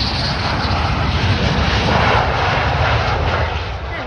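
F-15 or F-35 fighter jet at RAF Lakenheath, a loud, continuous broadband jet roar that stays steady throughout, close and powerful, with little else audible.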